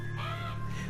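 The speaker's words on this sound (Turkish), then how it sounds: "Kargalardan ürktü." A crow caws briefly in the video game Beyond Eyes, a short harsh call or two over a low, steady ambient hum.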